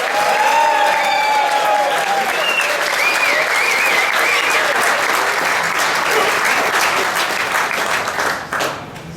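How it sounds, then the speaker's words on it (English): A comedy club crowd at the Workers Club in Balmain erupts in sustained applause with whistles and cheers, the clapping loud and continuous before tapering off near the end. "Put your hands together, claps, whistles, cheers."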